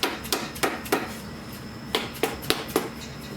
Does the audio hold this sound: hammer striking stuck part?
yes